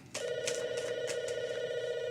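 A close telephone rings continuously with a sustained buzzing electronic tone, loud and steady, no talking over it.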